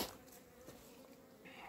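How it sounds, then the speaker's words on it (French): Honeybees buzz steadily and quietly around an open beehive during a hive treatment, a low continuous drone with no voices, faint throughout. "les abeilles se mettent dans les crémaillères comme à chaque fois"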